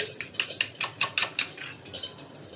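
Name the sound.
beating egg for an omelette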